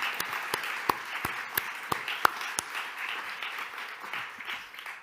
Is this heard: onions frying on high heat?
no